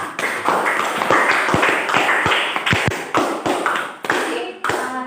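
A classroom of students applauds a classmate, a dense, close patter of many hands clapping that holds steady for several seconds with scattered thumps mixed in.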